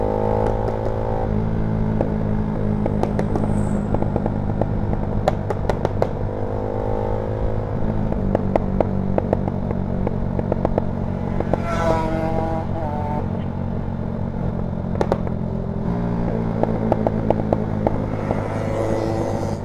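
Honda Sonic motorcycle running with an aftermarket exhaust, the engine revving steadily with sharp crackling pops and backfire bursts scattered through a loud, close, continuous drone.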